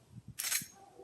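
A single sharp metallic click of a pistol trigger resetting as it moves forward after firing, quick and close, preceded by a couple of soft dull taps in an otherwise quiet room.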